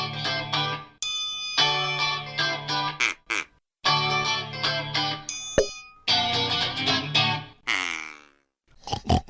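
A guitar plays a processed, effects-heavy intro of choppy chords and sustained notes, with abrupt stops and pauses, a bright swirling passage near the end, close and clear with no voices.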